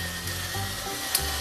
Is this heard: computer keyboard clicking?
no